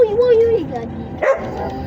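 A dog barks and yips a couple of times at close range, with a sharp bark near the end, while people talk over it.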